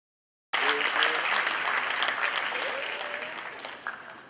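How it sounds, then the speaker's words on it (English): An audience claps together at a housing payment gathering, with applause bursting in suddenly and staying loud and sustained, then slowly thinning toward the end. "Can we clap for them?"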